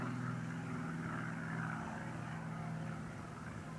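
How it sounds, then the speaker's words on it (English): Crop-dusting aeroplane flying over fields near a lake, a faint, steady propeller drone heard from a distance, holding level throughout with no voices. "We can hear an aeroplane."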